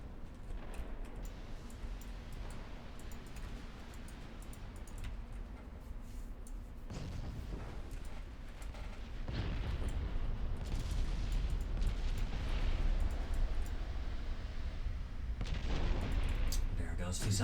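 Naval battle in Ultimate Admiral Dreadnoughts as battleships fire on and hit the cruiser Zara, a steady rumble of heavy guns and shell impacts swelling into louder booming bursts in the second half.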